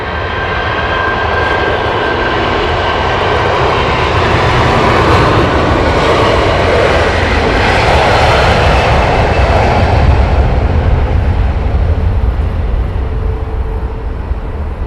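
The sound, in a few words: Qatar Airways Airbus A380 and Virgin jet aircraft engines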